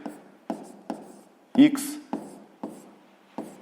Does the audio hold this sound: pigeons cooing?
no